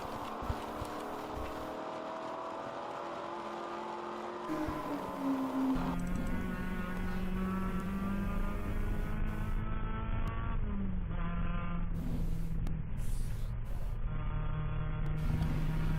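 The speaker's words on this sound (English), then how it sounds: "Just listening to some of the engine notes in the background there" Race car engines droning and shifting pitch as cars circle the VIR track during a ChampCar endurance race, a steady loud wash of several overlapping motors with gear changes, no talking.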